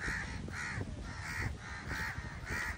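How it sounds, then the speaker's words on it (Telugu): Five harsh crow caws arrive at a steady, evenly spaced rhythm, fairly close and clear. "ఇది భయ్యా ఈ కాకులు"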